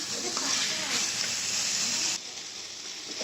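Prawns and spices sizzling as they sauté in a pan for a prawn curry, a loud steady hiss that drops abruptly in level partway through.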